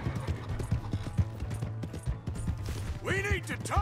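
Horse hooves clip-clop steadily on the ground in Red Dead Redemption 2, a rapid run of close hoofbeats sounding under in-game talk, with a brief whinny-like call near the end.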